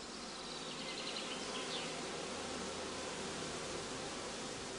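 Bees buzz around spaced hive boxes in Germany, a steady, dense hum filling the air without pause or nearby voices.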